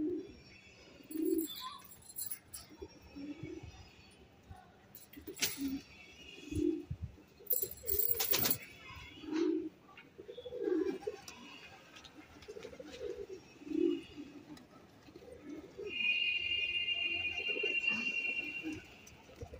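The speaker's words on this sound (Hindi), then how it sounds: "कुछ कबूतर उतर चुके हैं भाई" Domestic pigeons landing and cooing, a series of soft, rhythmic low coos repeating every second or so at close range, with a few sharp wing flaps and clicks and a brief chirping bird toward the end.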